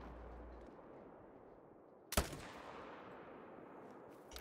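A single hunting rifle shot cracks out in the Call of the Wild hunting game, one sharp loud report over a quiet outdoor ambience, fading quickly.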